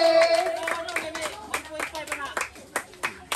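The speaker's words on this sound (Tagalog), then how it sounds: "Palakpak naman!" Guests at a lively Filipino Christmas party clap in quick, rhythmic bursts, the sharp claps close and clear over cheerful voices talking and calling out.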